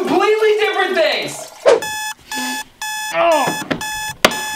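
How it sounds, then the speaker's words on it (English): An alarm clock beeps in three loud, even electronic bursts with short gaps between them. Comic voices cry out around and between the bursts. "My alarm hits me up every 5 minutes asking, "You up?""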